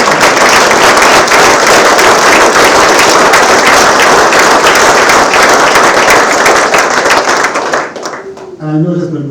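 Loud, sustained applause from a large crowd at a police officers' swearing-in ceremony in Sarasota fills the room, steady dense clapping that fades out near the end as a voice begins.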